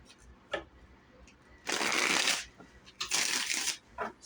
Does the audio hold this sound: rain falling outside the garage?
no